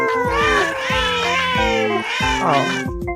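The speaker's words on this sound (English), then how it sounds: "Just meow meow meow meow." A stream sound effect plays loud, overlapping cat meows in quick succession, a dense chorus of wavering mews and yowls that runs continuously before cutting off abruptly.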